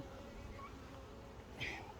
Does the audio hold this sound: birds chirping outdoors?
no